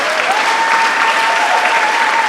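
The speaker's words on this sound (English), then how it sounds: "let's give one more round of applause for everyone who performed today" Audience clapping steadily in a dense, sustained round of applause after performers at an anti-apartheid benefit concert, loud and continuous throughout with a faint tonal hum running beneath.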